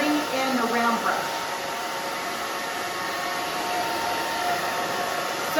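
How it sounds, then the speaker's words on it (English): Hair dryer blowing the back of a short bob dry, a steady close broadband whoosh that runs the whole time, with faint voice-like tones near the start. "Just gonna blow dry the back down."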